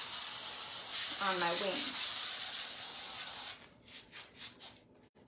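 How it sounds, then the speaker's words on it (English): A steady, loud aerosol hiss of spray adhesive from a can runs for several seconds, then cuts off into a few short bursts. A voice speaks briefly partway through. "I'm just going to spray a generous amount"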